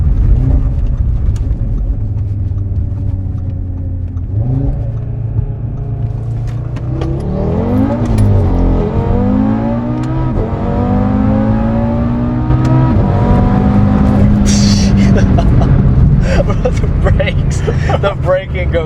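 A car accelerates hard from a slow roll, its engine note climbing through rising revs and gear changes, loud and close from inside, with occupants talking over it.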